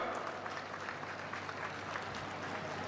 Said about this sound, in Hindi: जोर नाल एक दफा तालियां नाल स्वागत कर दिओ